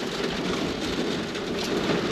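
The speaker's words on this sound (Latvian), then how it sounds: "lietus nositīs to svelmi trako." Steady, dense rain pouring down during a sudden summer thunderstorm in Smiltene, Latvia, a continuous close hiss with no voices.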